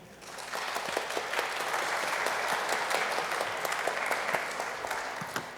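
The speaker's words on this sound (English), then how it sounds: "if you do a little bit, a lot, or thundering applause" A symposium audience applauds Henry in a sustained, even wash of clapping that swells quickly and holds at a steady level before easing slightly toward the end.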